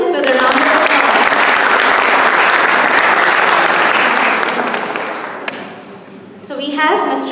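Audience at a Diwali celebration in the Rhode Island State House applauds to welcome the state's General Treasurer. Loud, sustained clapping fades near the end, a voice speaks, then a brief burst of clapping returns.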